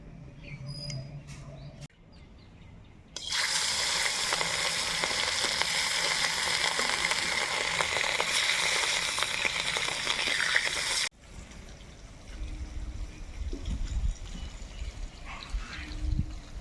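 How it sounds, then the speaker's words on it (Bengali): Fish sizzles loudly in hot oil in a wok for several seconds, a dense continuous crackle close up, with quieter kitchen noises before and after. "এক সাইড করে মাছ ভাজা হয়ে গেছে, আরেক সাইড করে ভাজতে দিয়ে দেব"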